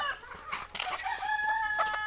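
A large rooster crows among desi Sonali hens on a poultry farm, a close, loud crow rising over soft clucking and scattered chicken noises.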